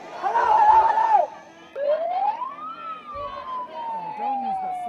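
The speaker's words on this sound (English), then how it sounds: "Don't use the siren." A police-style siren wails at a street protest, a loud close rising and falling tone that breaks off briefly and then returns with a long sweeping whoop, with voices and light laughter underneath.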